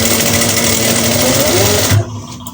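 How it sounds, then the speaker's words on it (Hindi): A sewing machine stitches a pocket onto a ladies' trouser with a dense, continuous mechanical whir close by, ending abruptly near the end of the short clip. "इस तरह से हमने सिलाई लगानी है।"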